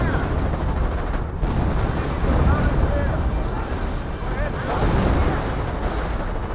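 Off-map artillery barrage in Company of Heroes, a dense continuous rumble of distant blasts and gunfire that stays loud and steady throughout with no clear gaps.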